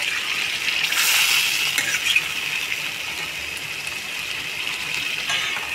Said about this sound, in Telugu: ఇదిగోండి కూర ఉడుకుతుంది, కోమిడి సంచుల కూర.